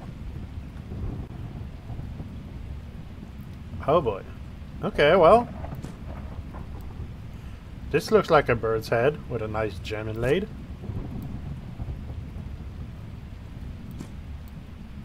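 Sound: thunderstorm with rain in the video game Webbed

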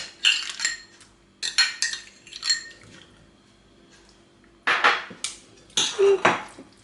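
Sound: mixing vegetable salad with mayonnaise in a bowl

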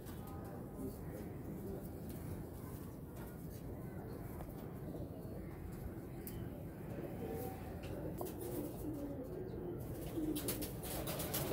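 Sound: golden pigeons cooing

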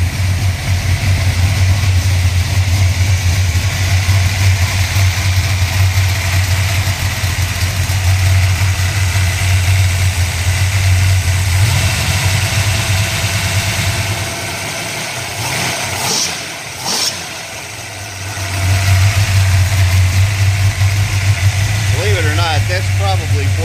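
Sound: 406 cubic inch V8 engine idling

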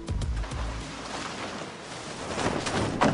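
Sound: catamaran sailing on water

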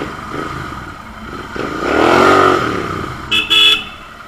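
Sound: Continental GT 650 motorcycle accelerating with loud exhaust

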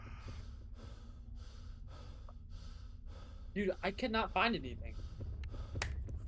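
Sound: video game character heavy breathing in Roblox The Mimic

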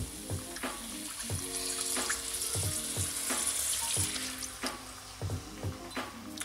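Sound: water being poured into a wok

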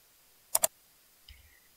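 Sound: keyboard key being pressed

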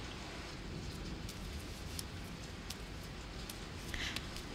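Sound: rain falling outside

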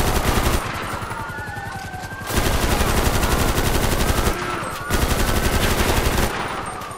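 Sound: rifle gunfire in a video game

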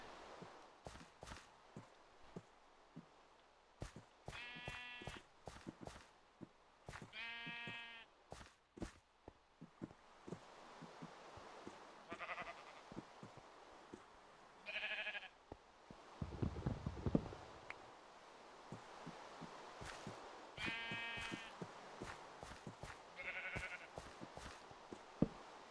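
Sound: sheep bleating in the video game Minecraft

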